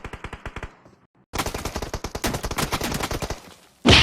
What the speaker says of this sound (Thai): นี่ก็เป็นการยิง P90 ระยะไกลนะครับ